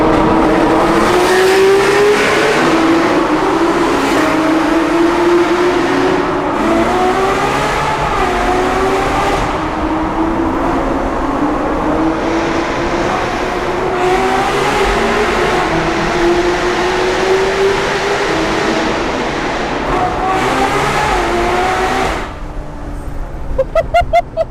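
A Ferrari 812 Superfast V12 engine revs loudly and repeatedly, rising and falling in pitch, close by, with a brief sharp burst near the end.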